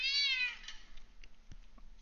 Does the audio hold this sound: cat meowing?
yes